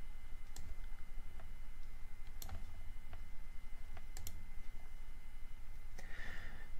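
Sparse, quiet clicks of a computer mouse, a few single and double taps spaced irregularly over a faint steady background hum, with no one talking.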